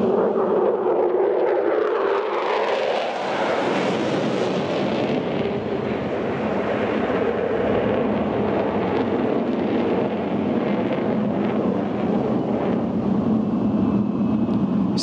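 A fighter jet sweeps through a Falcon Turn, a pair of 90-degree high-G direction changes at a Greek air show, its engine roar steady and loud throughout, swelling broadly early on and rumbling on with a windy, distant-air texture.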